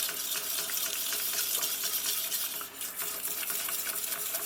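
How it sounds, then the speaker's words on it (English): A wire whisk, a Delia Wonder Whisk, beats a sauce in a pan for a few seconds, giving a fast, steady, bright scraping and tapping rhythm, close and alone with no talk. "Keep whisking. Look, it's getting smooth now."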